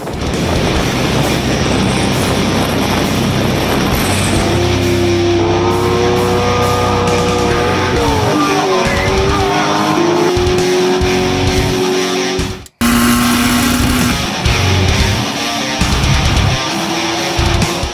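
A Mazda RX-7 with a 13B bridgeport rotary engine and individual throttle bodies revs hard through several pulls, a loud raspy howl rising and falling in pitch, cutting out briefly before roaring again.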